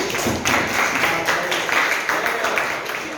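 A classroom group gives a brief burst of clapping for a student after a presentation, a dense patter of many hands at close range lasting a few seconds.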